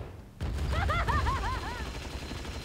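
Rapid bursts of gunfire from the mobile MMORPG Final Daybreak ring out over a dense, continuous layer of game effects and chirping tones, loud and sustained.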